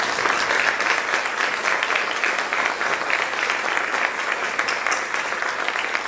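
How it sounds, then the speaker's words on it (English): Steady crowd applause in an outdoor park for a children's jazz performance, a continuous wash of many clapping hands at even volume throughout. "just one more round of applause for your kids"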